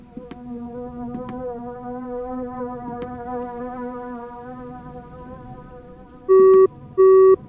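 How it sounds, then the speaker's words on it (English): A save-game phone tone in the horror game Insomnis. A sustained buzzing drone with faint ticks runs throughout, then two short, loud, clean beeps sound near the end. "Wow, classic phone game save."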